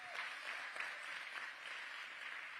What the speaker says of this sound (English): Can we have another round of applause for all of them that put this together?